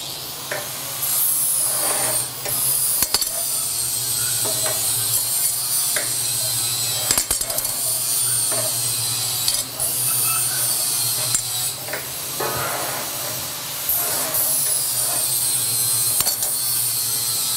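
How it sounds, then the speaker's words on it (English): A power grinder working old rusty metal, a steady loud buzzing whine with a constant low hum beneath, broken by brief scraping bursts and short dips throughout. "If you're watching and Steve's grinding is impairing your ability to hear me"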